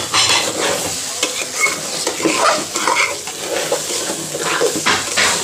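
Pulao rice fried in a pan at home, stirred steadily with a utensil. The close sizzle and scraping run without a break and nobody speaks.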